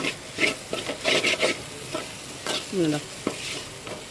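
Okra thoran stir-fries in a pan under a soft sizzle, with repeated scraping strokes of a spatula close by and no talking.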